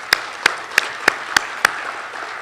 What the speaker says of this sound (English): Please join me in a round of applause for all the nominees.